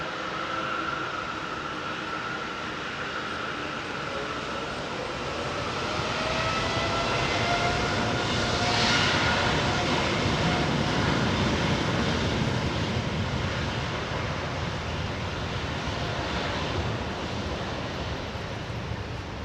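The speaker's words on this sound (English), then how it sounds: "me loving the jet noise" A jet aircraft roars at London Heathrow Airport, a broad, steady rumble that swells to a peak midway and slowly eases. It sounds loud and sustained, with no talk over it.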